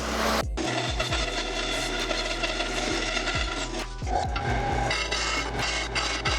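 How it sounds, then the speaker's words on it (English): A disc sander works a small wooden segment for a segmented bowl, giving a continuous loud whirring rasp close up, with bursts of scraping grind each time the wood is pressed against the spinning disc. "I'm going to cut it close to the line and just fix it on the disc sander"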